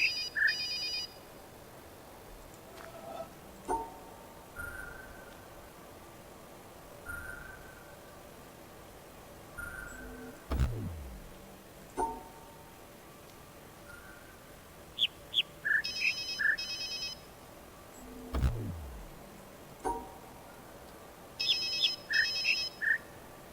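Electronic chirping tones from the video game The Witness sound from the bushes like a phone ringtone, short bright warbling bursts repeating at intervals, some high and trilling, with quiet swooping tones and pauses between them.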